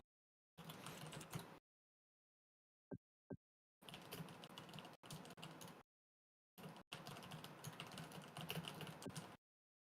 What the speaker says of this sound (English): I did try to get Shambler typing for you